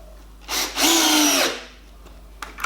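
A Bosch Professional 12V drill set to speed 2 drives a 30 mm chipboard screw in one loud, close whirring burst of about a second, rising after a brief start and then cutting off into quiet.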